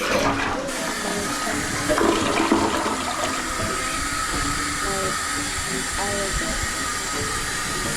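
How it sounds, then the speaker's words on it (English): A newly installed toilet flushes in a loud, close surge of rushing water, followed by a steady refill hiss lasting several seconds. "give it a test flush"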